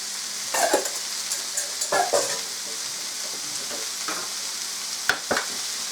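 Onions sizzling and frying in a hot pan, a steady hiss with several sharp stirring scrapes and clatters, close and fairly loud, no talking.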